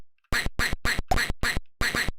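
Loud sampled duck quacks from Illogicoma on the Atari ST, seven brisk quacks in a quick, nearly steady rhythm after a brief silence, crisp and close with no talking.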